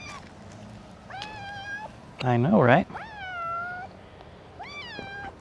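A vocal friendly cat meows repeatedly up close, several drawn-out rising and falling cries with one louder, harsher wail in the middle, while a person briefly speaks between the calls.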